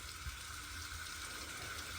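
A 2-horsepower injector water pump on a farm runs with a constant, even hum and a watery hiss, steady and moderately close for the whole stretch.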